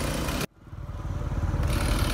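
Chainsaw cutting through a tree branch during difficult tree removal, a loud continuous engine drone that drops out abruptly for a moment, then revs back up and holds steady.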